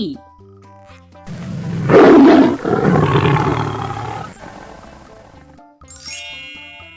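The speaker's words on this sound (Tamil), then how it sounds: "புலி" A tiger's deep roar rises loud and sustained in the middle, set among bright chimes and jingly musical tones before and after.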